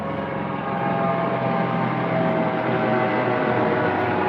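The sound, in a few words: helicopter flying overhead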